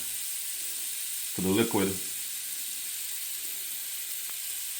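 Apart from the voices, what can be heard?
salted butter sizzling in pan, French toast frying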